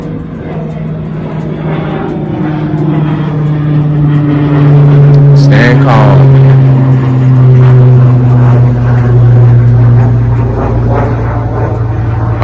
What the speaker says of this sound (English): I'm gonna let this plane fly over.